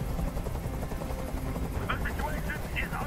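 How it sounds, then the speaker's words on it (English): A helicopter in the Detroit: Become Human demo thrums as a steady, loud rotor drone under dense game noise, with voices speaking over it and faint sharp bursts like distant gunfire. "Tell that helicopter to get out of here."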